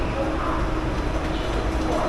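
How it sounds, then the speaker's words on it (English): A tram in Shanghai rumbles close by with a steady, loud rolling noise and a faint higher whine, continuous across the whole span. "This is not my tram."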